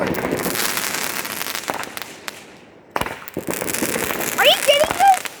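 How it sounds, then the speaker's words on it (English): Fourth of July fireworks crackle and pop in dense bursts with sharp reports, near and loud, with debris falling close by. Excited voices shout over the display and later squeal higher pitched. "It was pieces of fireworks."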